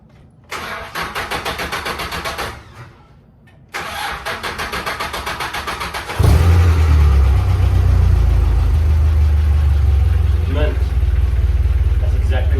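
An engine with a newly fitted exhaust cranks in two short bursts, then catches and settles into a loud, steady low idle that rumbles on to the end.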